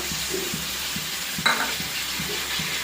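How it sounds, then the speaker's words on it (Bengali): Tomato, ginger and cumin paste hits a hot frying pan in a kitchen, giving a steady close sizzle with light stirring scrapes and a brief brighter splash of frying partway through. "তো এখন দিয়ে দেবো এই যে টমেটো পেস্ট, টমেটো, আদা, তারপরে জিরে পেস্ট করা, এটা দিয়ে দেবো"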